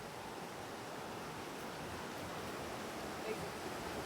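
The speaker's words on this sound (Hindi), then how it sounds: "नदी की धार बहुत तेज है," A fast-flowing river current in Palin, Arunachal Pradesh, a dense continuous rush of water that stays even and fairly soft from start to finish.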